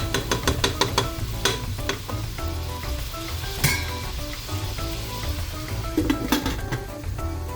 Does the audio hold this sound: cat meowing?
no